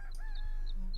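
A short rooster call in the game Super Auto Pets, a brief bright crowing burst over a steady low hum, heard alone without talk.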